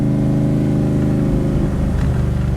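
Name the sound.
Backdraft Cobra replica car driving over bumps in second gear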